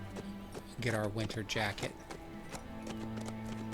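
Horse hooves clip-clop at a steady gait in the survival game HumanitZ, heard close and partly under someone talking.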